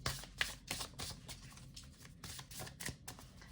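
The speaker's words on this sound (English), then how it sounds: "I think I'll just shuffle one of these cards." Tarot cards being shuffled by hand, a run of quick riffling bursts and soft slaps repeating through the stretch, close and fairly quiet, with no talking over them.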